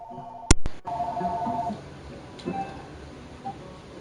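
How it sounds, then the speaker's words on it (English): A phone gives a short electronic ring after a couple of sharp clicks, fairly close and clear, over a low background hum. "Oh, my phone's ringing."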